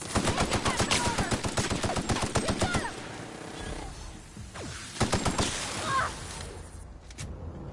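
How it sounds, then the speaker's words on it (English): Enemy gunfire in The Outer Worlds, rapid bursts of automatic shots firing in dense volleys for about three seconds, then a pause before shorter bursts return, loud and close with some echoing tails. "They're shooting at me."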